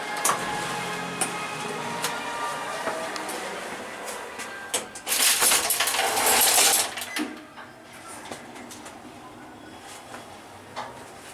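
An old gated Otis traction elevator in the Nashville Arcade in Nashville, Tennessee rattles its gate shut with a loud, brief scraping burst, then settles into a quieter mechanical hum as the car runs.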